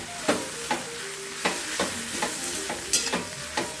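Flattened rice (aval) is stirred in a pan, with a soft sizzle under repeated spatula scrapes and taps at a loose, uneven rhythm; no one speaks.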